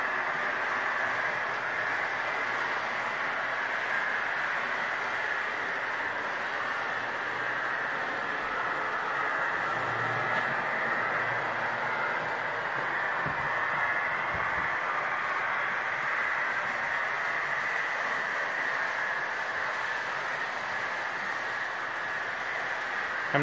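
A model train hums and whirs steadily along its track, a continuous close mechanical drone with faint clicks of wheels beneath it.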